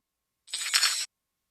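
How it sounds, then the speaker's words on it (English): Car keys jingle in reverse as a drum effect in music production, a single bright metallic shimmer that swells in and cuts off abruptly after about half a second, alone and clear. "It's these reverse car keys kind of jingling."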